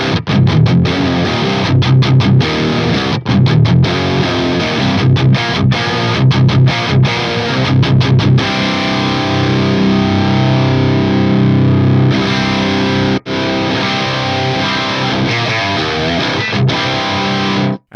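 An electric guitar runs through Fractal AX8 BE-C45 and 18C45 amp models with heavy saturated distortion, playing loud, close chugging chords and sustained notes with sharp stops, alone without talk.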